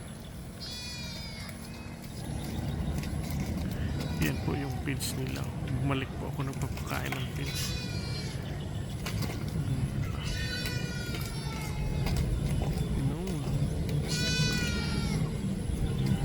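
Several goats bleat in repeated, wavering cries at close range while being fed, interspersed with a person talking and some rustling movement nearby.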